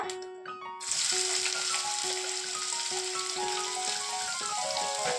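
Onions hit hot oil in a pan with a sudden loud sizzle that swells into a steady, crackling fry, dense spattering continuing without pause under faint background tones.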